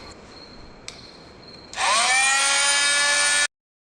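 A small handheld power tool spins up and grinds steadily against an off-road tire's gashed rubber sidewall, loud and close for under two seconds before cutting off abruptly.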